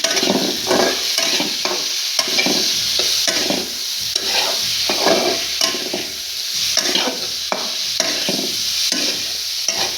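Potatoes frying in a pan, stirred repeatedly as they go in ahead of French beans, giving a steady loud sizzle broken by rhythmic scraping strokes throughout, with no voices.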